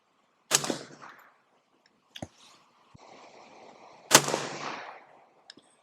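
A .22LR rifle fires on a range: sharp, close cracks, one early shot, a couple of small pops, then another loud report with a trailing ring, spaced apart rather than a continuous burst.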